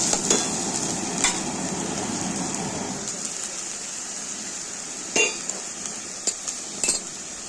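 Cauliflower and fish fry in a pan with a steady soft sizzle, and a few light clinks of a utensil stirring against the pan.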